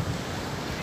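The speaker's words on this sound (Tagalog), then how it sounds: "Grabe ang galit ng dagat." Rough, angry sea with waves crashing on the shore, heard as a steady, loud wash of surf and wind rumble with no break across the short stretch.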